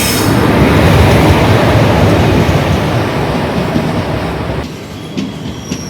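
A passenger train running in India, heard from on board or close by as a loud, steady rumble with rail clatter that eases toward the end, with no talking.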